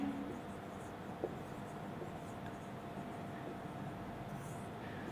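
A teacher writes on the board during a school chemistry lesson on metals, giving a faint, continuous scratchy stroking with no one talking.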